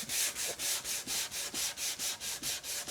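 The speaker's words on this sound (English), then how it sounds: "And I'm just going to rub kind of with the grain, just to make sure I've smoothed off all of that grain filler" Hand sanding wood grain filler on a Flying V guitar body with a 240 grit pad, steady rhythmic back-and-forth strokes, about a dozen even rasps, close and alone.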